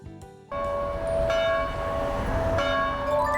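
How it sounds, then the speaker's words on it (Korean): A church bell rings out loud and steady along a street in Daegu, its bright, sustained overtones ringing on for several seconds after starting abruptly, with no voices over it. "거리에 울려 퍼지는 은혜의 종소리가 들리시나요?"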